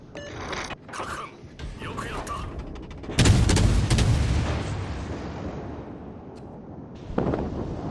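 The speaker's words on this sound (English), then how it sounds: "I'll get around the corner just enough time to see this guy get hit by these torpedoes" Torpedoes striking an enemy ship in the naval battle game World of Warships, with a sudden heavy booming explosion that rumbles on and slowly fades amid the game's loud battle sounds.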